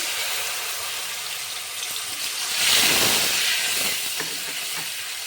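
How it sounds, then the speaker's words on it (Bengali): A paste of cashews, raisins, poppy seeds, green chillies and melon seeds hits hot oil in a pan for a no-onion, no-garlic paneer curry, giving a steady close hiss that swells loudly midway and then settles. "এবার তাতে কাজু কিশমিশ পোস্ত কাঁচা লঙ্কা চাল মগজ পেস্ট করাটা দিয়ে দিচ্ছি"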